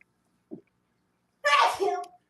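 One sharp sneeze bursts out close and loud after a brief faint sound, in an otherwise quiet room.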